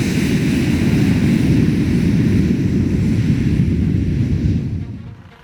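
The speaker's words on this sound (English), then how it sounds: "The A340 took off for the first time from Wolf Runway in Antarctica" An Airbus A340 takes off from the icy Wolf Runway in Antarctica in harsh wind, a loud low engine rumble with a steady roar that holds for several seconds, then fades away.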